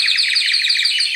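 A small pet bird kept at home chirps in quick, high repeated tweets, a close and fairly loud rapid series with no talking over it.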